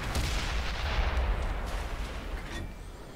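Heavy, continuous tank cannon fire and explosions from a World of Tanks battle, a dense, booming barrage that stays loud throughout and eases slightly toward the end, with no talking.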